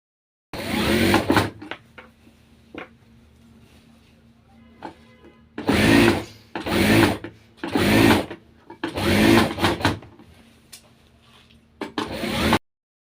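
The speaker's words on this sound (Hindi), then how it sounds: "इसको हल्की हल्की पैर की सिलाई लगा लिया करें" A sewing machine stitches trouser fabric in several short bursts of rapid, loud whirring, separated by quiet pauses.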